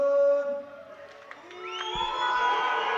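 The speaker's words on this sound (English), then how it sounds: "The home crowd don't like it." A home crowd at the Strandja 2022 boxing final (80 kg), reacting to a split decision: loud, sustained jeering and shouting from a large arena audience that swells toward the end.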